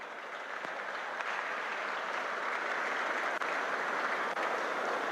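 Sustained audience applause fills a university convocation ceremony in Port Harcourt, a dense, steady wash of many hands clapping at even loudness throughout, with no talk over it.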